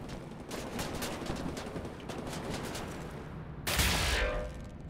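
Gunfire in the shooter Wolfenstein: The New Order: a steady rattle of shots runs throughout, ending in a louder, close burst or blast near the end, with no talk.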